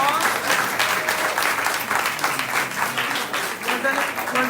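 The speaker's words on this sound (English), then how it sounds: "Can we give them a round of applause?" An audience applauds a panel at a cultural conversation held at The Betsy Hotel, loud continuous clapping with a few voices mixed in.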